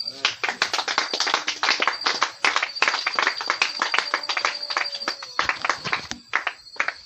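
A church congregation at a Tabernacle service claps in acclaim of the Lord, fast dense rhythmic clapping that fills the room for several seconds, loud and continuous with voices mixed in.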